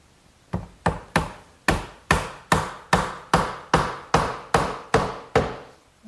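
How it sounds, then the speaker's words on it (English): Twelve sharp, evenly spaced hammer blows drive a 3/8 inch birch dowel into a glued hole in a wooden garden bench, each strike loud and close with a quick decay and no talk. "when I drive the dowel in it'll get glued and it won't pop out later"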